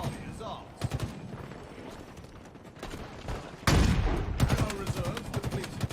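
Assault rifle fire from a Call of Duty Warzone match, sharp bursts of shots with a loud dense volley near the middle, mixed with game announcer voice and player chatter.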